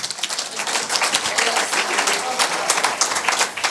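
Church congregation applauding a man at a prayer gathering, a dense, steady wash of clapping close by and fairly loud throughout, with some voices mixed in.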